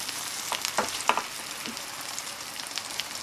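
Seafood green onion pancake batter sizzles and crackles steadily in hot oil in a pan, with a few sharper pops and spatters near the start.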